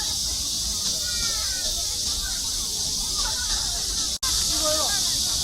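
Water mist hissing steadily from nozzles beneath park seats in Seoul Forest, a continuous broadband spray sound throughout, briefly cut off near the end, with distant birdsong and voices faintly in the background.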